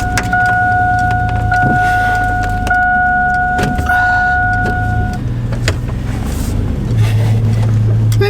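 A Chevrolet Avalanche with a leaking transmission runs through a short test drive, giving a steady, close engine drone in the cabin with faint whines, a few ticking clicks and light rattles over about eight seconds.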